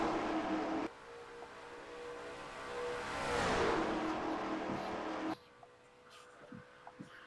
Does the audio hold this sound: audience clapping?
no